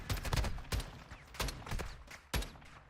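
Rapid gunfire in a Modern Warfare II multiplayer match: a burst of loud, close shots in quick irregular succession, several distinct cracks with short echoes over about three seconds.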